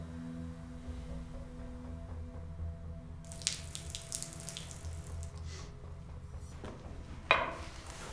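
Water running from a tap into a sink, a soft steady splash under a low hum that turns brighter and fuller partway through, ending with a small clunk.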